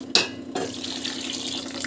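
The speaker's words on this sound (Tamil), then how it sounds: "ஸோ தண்ணி வந்து தேவையான அளவுக்கு வந்து தண்ணி விட்டுக்கலாம்" Water poured into a cooking pan for rava khichdi, a sharp splash followed by a steady close rush of pouring liquid.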